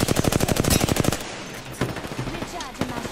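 Rapid automatic gunfire rattles in the shooter game Apex Legends, a dense close burst for about a second, then quieter scattered distant shots and game effects.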